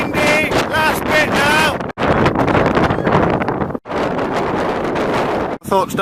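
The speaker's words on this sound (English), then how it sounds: "Really windy, last bit" Strong wind buffets the microphone on the exposed final stretch of a hill climb in the Black Mountains, a continuous loud roar with brief lulls, while voices talk over it at the start.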